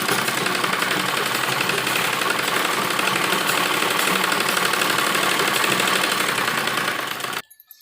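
A sewing machine runs a loose basting stitch on the net fabric of an embroidered lehenga blouse, a steady, close mechanical whirr that carries on without pause and then stops abruptly near the end.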